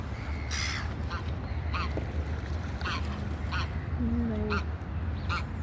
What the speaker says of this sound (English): All the geese. Canadian geese. Egyptian geese.